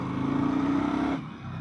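A 2025 Indian Sport Scout motorcycle pulls hard, its engine note rising steadily for about a second before easing off, heard close up from the rider's seat with no talking.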